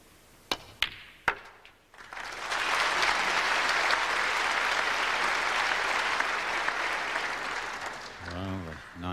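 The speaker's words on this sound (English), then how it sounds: "Nice round of applause" An audience at a 1990 UK Championship snooker final breaks into sustained applause after a few sharp ball clicks, a broad steady clapping that fades slightly as a commentator's voice returns at the end.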